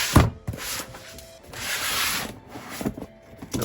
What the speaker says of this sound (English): Right, so let's go ahead and unbox this.